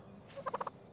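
A wild turkey gives a pulmonic puff call, a short, faint burst of four quick soft pulses heard alone.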